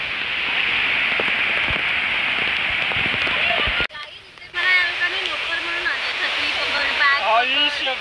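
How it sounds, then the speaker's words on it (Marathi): Heavy monsoon rain at Matheran hisses in a dense, steady downpour, then briefly drops away before a voice talks over the continuing wash of water. "इकडे पाऊस बेकार पडतो"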